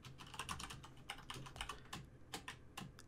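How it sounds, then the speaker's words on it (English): Someone types an SSH command on a computer keyboard in a quick, uneven run of close, crisp key clicks, with no voices. "you're going to type in SSH and then the username"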